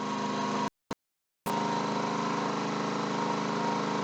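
A Ryobi 4000 watt inverter generator runs near a trailer with a steady mid-pitched engine drone, cut out briefly near the start before resuming evenly and loud.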